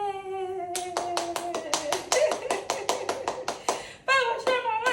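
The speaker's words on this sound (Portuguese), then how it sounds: "Palmas pra mamãe!" A steady run of sharp hand claps, about a dozen in quick even rhythm, close and loud, with brief sung or called vocal tones at the start and end.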